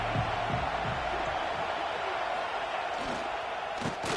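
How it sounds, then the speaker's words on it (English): Stadium crowd noise in the College Football 26 video game forms a dense, steady roar of massed voices, with a few thuds and a faint swell near the end. "This crowd ready to make its presence known."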